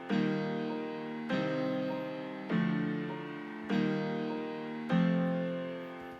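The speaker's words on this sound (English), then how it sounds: "I created the chord progression using upright piano, and that sounds like this." Upright piano playing a chord progression, five sustained chords struck at an even pace, each ringing and slowly decaying before the next, clear and alone.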